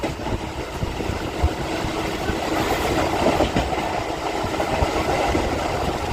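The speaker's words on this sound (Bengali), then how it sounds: "দেখা যাক এবারে কতক্ষণে ঢুকি বর্ধমান।" A local train runs toward Bardhaman, its carriage giving a continuous rumbling roar with faint clickety-clack of wheels over rail joints, steady and close, with no talk.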